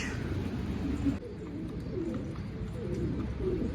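Low, soft pigeon coos roll on steadily, close by, over a dull background murmur.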